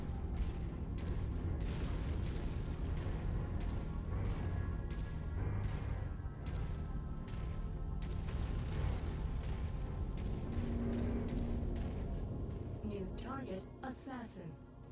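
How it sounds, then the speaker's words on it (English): Repeated booming explosions and bursts from a video game match, with no voice over them, thumping in a steady run before thinning out near the end. "Seeing lots of explosions and stuff going off"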